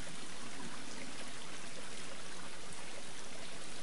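A stream outdoors near a tree on a hot day, water running in a constant close rush with a soft trickling texture, steady and unbroken, with no voices.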